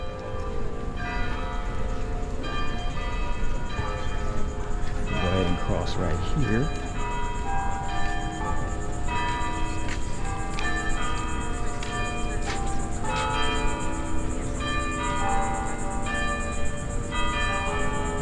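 Church bells ring steadily in the background in St. Augustine, Florida, with sustained, overlapping tones, while a person speaks briefly over them outdoors.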